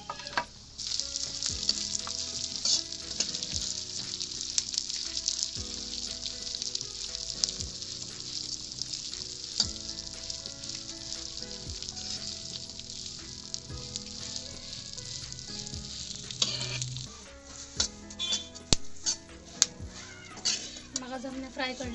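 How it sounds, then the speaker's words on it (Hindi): Melon seeds (magaj) fry in hot fat in a pan while gond makhana is being made, giving a steady, close crackling sizzle with occasional metallic clinks and scrapes of stirring throughout. "अब हम इसमें मगज फ्राई कर लेंगे।"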